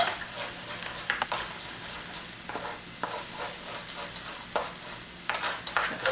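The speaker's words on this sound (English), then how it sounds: "I'm going to scramble him right in the pan." Quinoa with portabella mushrooms and Marsala wine stir-fries in a pan, with a constant sizzle and irregular scraping and tossing strokes of a utensil, close and fairly loud.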